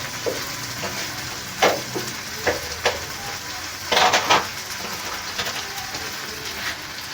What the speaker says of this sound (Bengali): এটা আমি ভালোভাবে কষিয়ে নেব